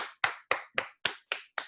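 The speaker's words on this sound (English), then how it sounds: "let's have a big round of applause for Matt Long." A few people applaud a presenter at a capstone presentation event, giving seven sparse, evenly spaced claps that sound thin and close, as if from one or two people.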